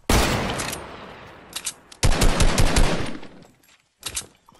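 Rapid automatic gunfire bursts in a Fortnite Battle Royale match, loud and close, with a long sustained volley after a brief pause and a short final burst.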